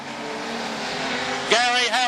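Production sedan race cars at Maryborough Speedway run past under the tower, engines roaring with a rising, sweeping whine as a car passes close, while a commentator talks.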